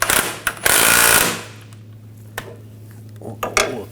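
A power tool rattles loudly in two short hammering bursts, an impact wrench snugging a nut on a BMW X5 front suspension, then a low hum with scattered metallic clinks follows nearby.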